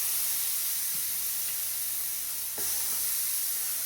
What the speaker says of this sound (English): So anyway, I put them in a griddle pan.